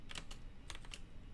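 Script code is typed on a computer keyboard in a quick, irregular patter of soft keystrokes, with a few louder taps standing out and no voices.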